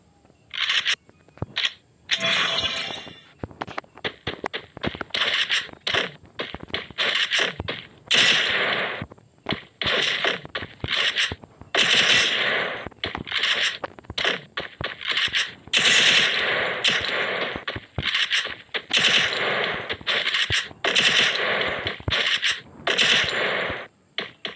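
Rapid bursts of automatic gunfire and single shots from a shooting video game training round, loud and nearly continuous for the whole stretch, with brief gaps between volleys.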